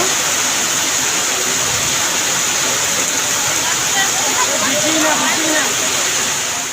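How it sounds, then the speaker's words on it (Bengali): Heavy rain pours down steadily outdoors, a dense continuous hiss and patter heard close and loud throughout. "বড্ড জোর বৃষ্টি পড়ছে"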